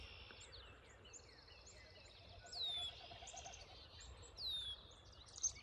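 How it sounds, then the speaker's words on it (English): Outdoor birdsong in spring, with a few short whistled phrases and chirps rising over a steady, soft background of wind or grass noise, moderately distant and unaccompanied by speech. "I gotta figure out what that bird is, though."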